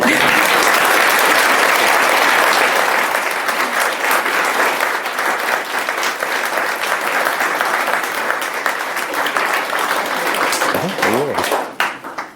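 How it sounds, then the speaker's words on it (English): Wedding guests at Ben and Elizabeth's ceremony break into loud, sustained applause after the vows, a thick wash of many hands that holds steady and then tapers off near the end, with some voices mixed in. "I think that probably deserves a round of applause."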